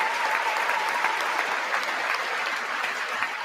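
Lawmakers applaud during Trump's address to Congress, loud, sustained clapping from a large chamber crowd, even and continuous from start to finish.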